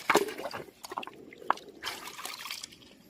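Water trickles and splashes over a yellow wax stone, an unjadified huangla rock dug from floodwater debris, with irregular drips and a brief sharp knock midway, close and moderately loud.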